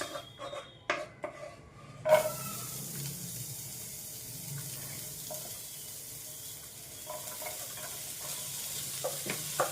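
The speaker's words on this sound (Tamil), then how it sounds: "பட்டர் போட்டாச்சு இப்போ இதில் வந்து நம்ம ஆனியன் போட போகிறோம்" Onion dropped into melted butter in a pan, followed by a soft steady sizzle with a few clinks and stirring knocks early on, moderately quiet throughout.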